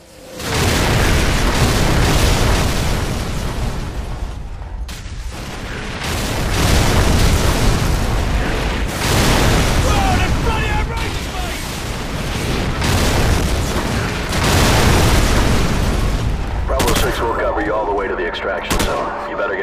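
Artillery shells pound a position in a Call of Duty mission, with repeated heavy booms and rolling blasts mixed with gunfire over nearly twenty seconds, while voices sound intermittently through the barrage.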